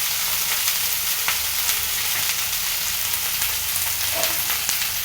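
Tomatoes fry in hot oil for an egg curry with a dense, continuous sizzle. It is loud and steady throughout, with faint stirring ticks and no voices.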